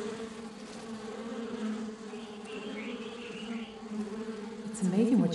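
Bees buzzing around sausage tree flowers in the African bush, a steady close drone with wavering pitch as insects hover and shift, growing louder near the end.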